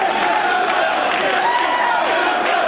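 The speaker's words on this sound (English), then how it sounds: "And the crowd in Manhattan appreciates it" A wrestling crowd in a Manhattan arena during a Ring of Honor match roars in a steady, loud wash of cheers and shouts that fills the whole space without a break.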